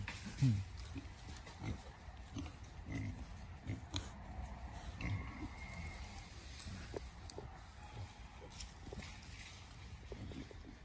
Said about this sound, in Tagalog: Tropang baboy.